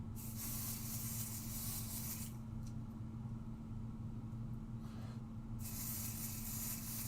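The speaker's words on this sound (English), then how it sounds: "And spray that onto the back of our stencil." Two bursts of aerosol spray onto the back of a stencil hiss nearby, the first lasting about two seconds and another starting near the end, over a low steady hum.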